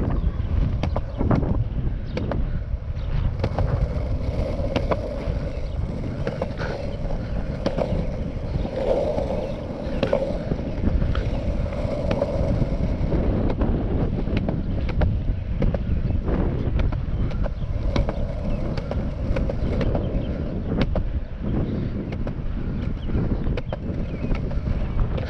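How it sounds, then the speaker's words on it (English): Strong wind gusting outdoors in Schaller, Iowa, buffeting the microphone with a steady, loud low rumble that persists through the whole stretch, with faint scattered knocks beneath it. "Pretty windy."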